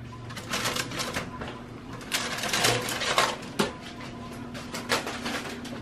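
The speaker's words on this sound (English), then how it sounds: "Let's get in here and remove this foil." Crinkling aluminium foil peeled back from a chicken roasting in an oven, a run of sharp crackles and rustles with a few louder snaps, close and unbroken by talk.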